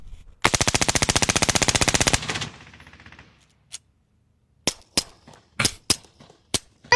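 A Glock pistol with a Master Key shotgun attachment fires a rapid full-auto burst of about two seconds, then several separate sharp single shots follow at irregular intervals, loud and close with no talking.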